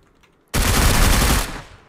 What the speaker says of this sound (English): You killed me with the Uzi.